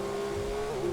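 A modded car engine in a GTA 5 server gives a steady, droning hum as it drives along, loud and close for a brief moment with no voices over it.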